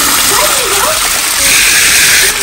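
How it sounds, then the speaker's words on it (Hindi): Cold water gushes and splashes steadily into a swimming pool being filled, loud and close, with a voice faintly heard over the rush. "मैंने पानी छोड़ दिया है, अब ये 2-3 घंटे में कंप्लीट भर जाएगा"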